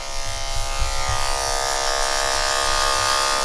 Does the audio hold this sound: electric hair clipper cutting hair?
yes